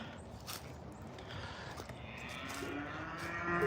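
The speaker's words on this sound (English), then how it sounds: "They're mooing for me to come feed them." Hungry calves on a farm moo for their feed, with several long, low calls sounding at moderate distance over a steady outdoor hum, and faint footsteps or rustling nearby.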